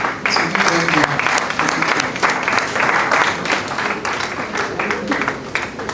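Loud, close applause from an audience honoring award recipients at the Olu Asekun National Moot Competition, steady clapping throughout with some voices mixed in.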